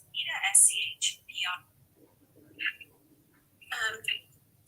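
A phone going off in the middle of a presentation, its bright electronic ring tones chirping in short bursts at the start and again near the end, with quiet stretches between.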